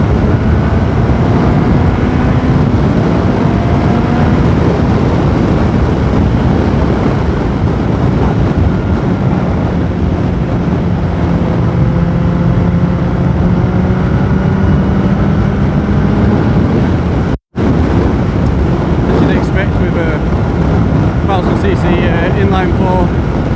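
A Yamaha R1 inline-four motorcycle engine drones steadily while cruising at about 40 mph in second gear, under heavy wind buffeting, with one brief dropout late on.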